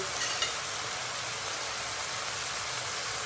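Ground meat frying in a pan as water cooks off, a steady broadband sizzle with no break, close and moderately loud, one small tap near the start and no voices.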